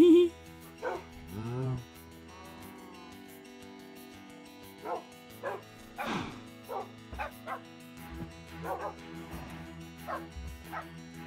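Dogs in the Minecraft video game yip and bark in scattered short bursts, some whimpering, against a quiet background while someone talks over them.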